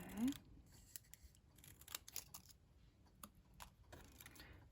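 Scissors snip paper for a Stampin' Up cottage rose fancy fold card, giving a series of quiet, irregular close cuts and rustles in a hushed room.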